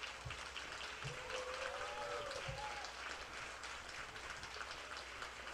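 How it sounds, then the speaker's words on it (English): Board members receive sustained audience applause at a 2021 organisation event, a steady dense wash of clapping that stays even throughout, with a few faint voices underneath. "I want a huge round of applause for all of their support for our staff"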